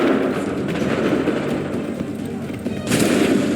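A musket volley in Assassin's Creed 3, a dense roar of gunfire rumbling throughout with a fresh burst of shots near the end, loud and booming.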